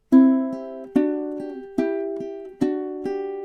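A ukulele fingerpicks a short lullaby phrase, a steady pattern of single plucked notes about every half second with accented strikes roughly once a second, close, clear and unaccompanied.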